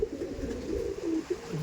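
Kalasobuj pigeons cooing in a loft, a soft low continuous burble of coos close by with a few rising notes, no talking.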